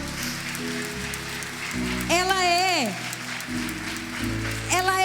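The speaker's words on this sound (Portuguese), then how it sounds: "vamos aplaudir essa palavra" A church congregation applauds during a worship service, a continuous patter of clapping that runs throughout while a voice speaks and calls out over it.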